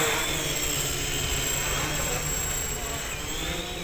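The motors of a Spider Quad quadcopter whine steadily at about half throttle, a loud, even, high-pitched buzz with a broad rushing hiss, holding constant throughout with no talk.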